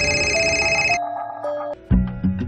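An electronic telephone ringtone trills in a bright repeating pattern, close and clear, then shifts to a lower repeating tone as a story sound effect.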